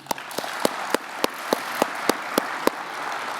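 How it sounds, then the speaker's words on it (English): An audience at a military maintenance symposium awards banquet applauds senior leaders: a dense, steady wash of clapping, with sharp individual claps from one nearby person popping out at a quick, even beat. "Please join me in a round of applause for these senior leaders."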